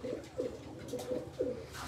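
A Rampuri pigeon coos softly in a short series of rounded, throaty calls with brief pauses between them, faint and nearby with no voices.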